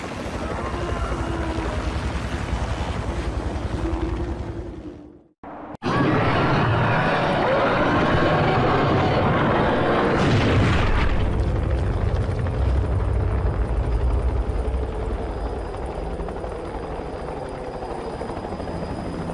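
A helicopter roars close and loud in the action game The Thing, its rotor thump steady and dense, briefly dropping out before surging back with a sharp noise burst, then holding on under faint voices.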